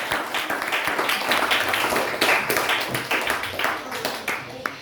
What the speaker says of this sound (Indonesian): Beri tepuk tangan dulu yang meriah untuk kita semua